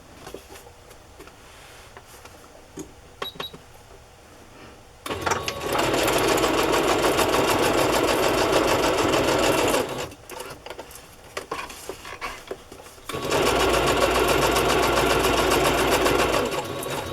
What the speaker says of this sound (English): I'm going to sew this on as a little pocket